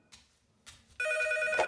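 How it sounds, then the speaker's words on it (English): A telephone rings with one loud, sustained electronic bell tone after a few faint knocks and rustles, close and clear with no talking. "And then the phone rang."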